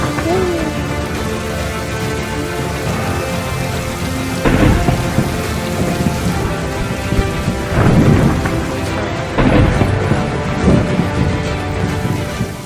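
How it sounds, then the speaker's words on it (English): A rare desert thunderstorm in a simulation: heavy rain pours steadily while several deep thunder rumbles roll through at intervals. "one of the few storms of the entire year was about to commence"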